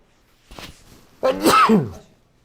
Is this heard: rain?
no